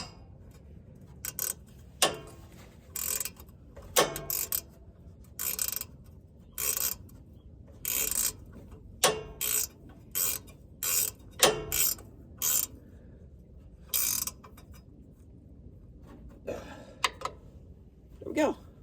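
Ratchet tightening nuts on a racing lawn mower, giving sharp irregular clicking bursts and short runs of ratcheting over a steady background hum, close by and fairly loud.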